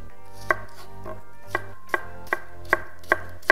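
A knife julienning cucumber into thin slices on a cutting board, with seven or eight crisp, evenly spaced chops standing out clearly over a quiet background, no talking.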